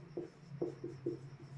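A pen or chalk scratches out a geometry solution in short strokes, five quick, faint scrapes in a loose rhythm over a quiet hum.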